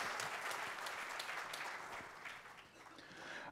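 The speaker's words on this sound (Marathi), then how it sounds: "परत एकदा संपूर्ण आयाम नाशिकच्या टीमसाठी प्लीज एकदा जोरदार टाळ्या" An audience claps for the organising team at the opening session of a conference in Nashik. The dense applause holds steady, dips briefly and then swells again, heard at a moderate distance.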